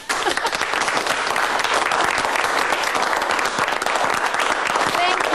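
Sustained audience applause in a televised soap-opera party scene, dense steady clapping from many hands filling the whole stretch at close, even loudness.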